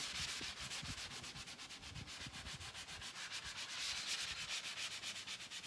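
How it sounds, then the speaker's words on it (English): Continuous scratchy rubbing of sandpaper lightly worked back and forth over the edges of a transfer on a painted furniture piece, steady rhythmic strokes, close and fairly quiet with no talking. "when you lightly sand like this, it makes it kind of disappear"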